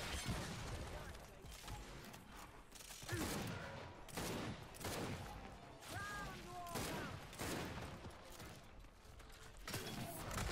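Rapid bursts of gunfire from the video game Gears 5, repeated shots and mechanical clatter in quick volleys across the clip, close and loud, with players talking over the action.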